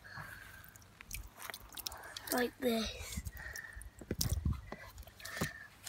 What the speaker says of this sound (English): And as you squeeze it, it goes out of your hands.